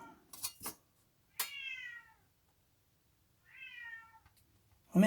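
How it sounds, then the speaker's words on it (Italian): A small kitten meows three times, high and thin, with quiet pauses between cries, close by in an otherwise still room. "Guardate, sentite il gattino come miagola."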